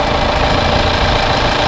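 Warmed-up Hyundai Maxcruz engine idling, close and loud, with a steady rumbling drone and a faint knocking texture that stays constant without any talk.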